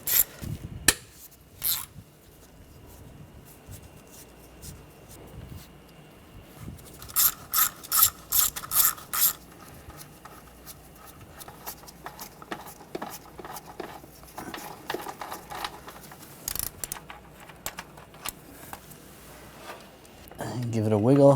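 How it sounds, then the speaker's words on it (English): An 11mm socket ratchet loosens intake plenum bolts on a 2009-2013 BMW 328i xDrive 3.0L inline-six, with bursts of rapid clicking and some metallic rubbing under occasional talk. "Using a 11mm socket, take the bolts out for the intake plenum."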